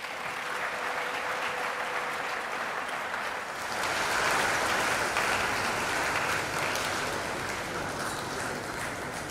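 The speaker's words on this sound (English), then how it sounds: "Another round of applause to our chairman" An audience at a university anniversary celebration for agriculture applauds their chairman, a broad, continuous wash of many hands that swells louder partway through and carries on steadily, somewhat distant in a large hall.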